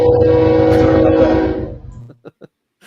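Loud, sustained train horn blast, played as a podcast segment sound effect, holds for nearly two seconds, then fades out and is followed by a few faint clicks.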